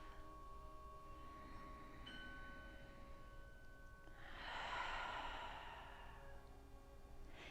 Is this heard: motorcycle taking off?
no